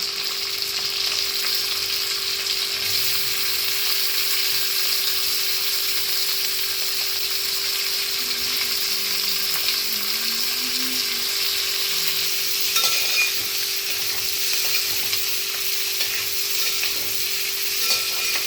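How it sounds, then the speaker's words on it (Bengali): Onion, tomato and capsicum fry in a pan with ginger, garlic and green chili for restaurant-style chili chicken, a loud unbroken sizzle under occasional stirring scrapes and a faint steady hum, with no speech. "এবার আমি এখানে পেঁয়াজ টমেটো আর ক্যাপসিকামটা দিয়ে দেবো"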